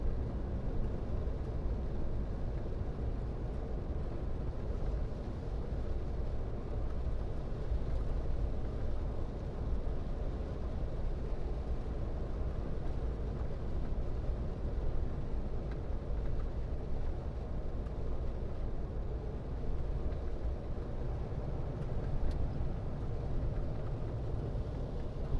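A Volvo truck engine drones steadily from inside the cab while driving, a continuous low rumble with road noise that holds at a constant level throughout, with no talk.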